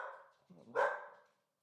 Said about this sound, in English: that's my dog. Sorry about that.